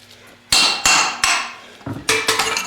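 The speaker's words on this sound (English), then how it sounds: "if you'll just take a chisel and tap it right in there," Sharp metallic hammer blows on a chisel driven between a Mercedes 300D brake rotor and its hub, about eight close, ringing strikes in an uneven rhythm, quickening toward the end, with no talking.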